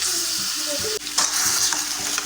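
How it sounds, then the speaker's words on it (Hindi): Half a kilo of machine-minced meat frying in a pan, a loud steady sizzle broken by a few scraping stirs, close by, with nobody talking. "फ्राई हो रहा है।"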